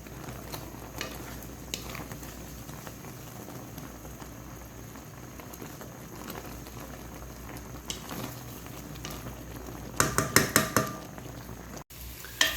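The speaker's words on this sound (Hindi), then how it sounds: "अब हमने आंच इसकी तेज़ ही रखी हुई है ताकि आंच की तेज़ में ही ये दूध और इसका जो चाशनी थी वो हल हो जाए" Milk and sugar syrup of Hyderabadi bread halwa (double ka meetha) bubbling and sizzling hard over a high flame, a continuous dense hiss with a few louder spoon scrapes or stirs near the end.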